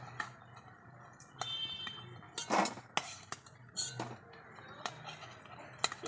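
Light clinks and clatters of crisp fried potato pakoras dropped onto a plate, arriving in irregular bursts against quiet background noise.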